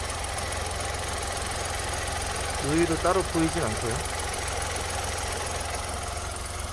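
A Kia Morning engine idles with a steady low rumble and vibration, heard close and continuous while someone speaks over it briefly.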